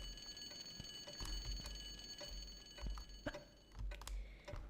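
A continuous, high-pitched electronic alarm from Tomb Raider Remastered rings steadily throughout, with scattered sharp clicks and footstep-like taps over it.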